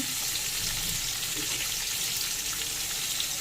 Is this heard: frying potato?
yes